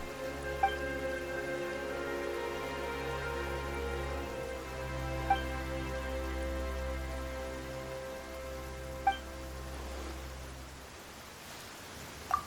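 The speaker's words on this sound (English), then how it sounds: "Why is it raining all of a sudden?" Steady soft patter of rain falling in the Genshin Impact video game, a continuous hiss over low droning background music, with a few faint chime-like accents and no talking.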